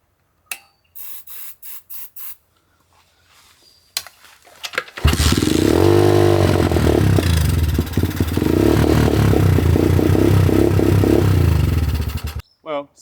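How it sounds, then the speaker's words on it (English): A cheap motorcycle engine sputters with a few weak attempts, then fires up into a loud, rough, buzzing idle that runs unevenly for several seconds before cutting out. "So the bike's fired up, but it's not running."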